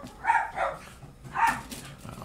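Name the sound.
dogs barking outside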